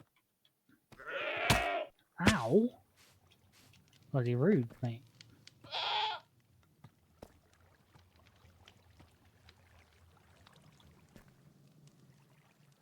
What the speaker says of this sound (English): Oh, there's a goat.